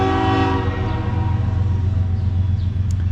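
Near and loud, a train rolls through Matewan, West Virginia, its horn holding one long, steady chord over a deep rumble of wheels and cars that continues without a break.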